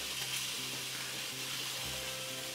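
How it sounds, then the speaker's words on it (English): Sausages sizzling in a frying pan, a steady loud hiss of frying fat with faint crackles throughout. "How many sausages are sizzling in the pan?"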